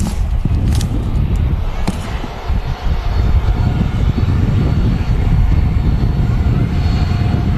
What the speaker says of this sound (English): So we have a Jet2 737 on short finals here in the .com scheme.